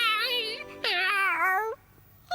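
Cartoon cat meowing in an animated series, two drawn-out, wavering meows in quick succession, loud and close, followed by a short quiet gap.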